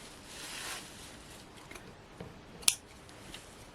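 Scissors cutting paper pieces for a card, faint soft snips with one sharper close snip near the end, quiet and without talk.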